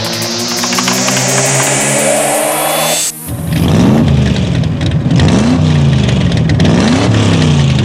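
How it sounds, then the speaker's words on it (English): A high-performance race car engine revs to a climbing whine, breaks off sharply, then surges again into loud, fluctuating throttle blips that rise and fall close by. "a high-performance race car doesn't exactly operate like a family minivan."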